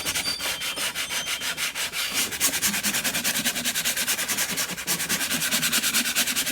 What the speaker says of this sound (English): Just do it very lightly with some fine sandpaper, not too rough.